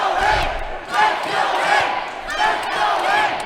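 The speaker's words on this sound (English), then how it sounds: "The simple "Let's go Hank" chant arises from the crowd" A crowd at a boys' varsity high school basketball playoff quarterfinal between the Frisch Cougars and HANC Hurricanes chants "Let's go Hank" in a loud, steady rhythmic cadence, the repeated phrases rising and falling in waves across the gym.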